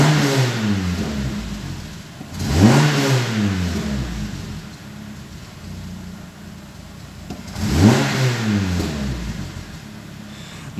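Renault Megane track-project car engine running with misfires, a rough uneven idle rising into two revs that climb and fall back, close and loud with no talk.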